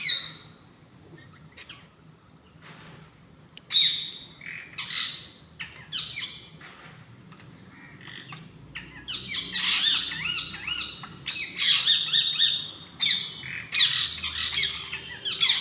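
Birds squawking on a rooftop while fighting over scattered rice grain, giving sharp harsh calls in scattered bursts that grow denser and louder toward the end, close by with no voices.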